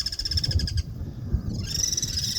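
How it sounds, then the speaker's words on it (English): Birds near Inca ruins in Bolivia give repeated rapid trilling, pulsing calls, fairly close and clear, breaking off briefly mid-clip before resuming, over a low rumble of wind and handling noise. "I don't know what kind of bird they are."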